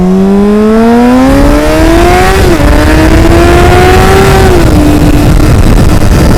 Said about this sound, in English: got me another bike, this beautiful Honda CBR 600RR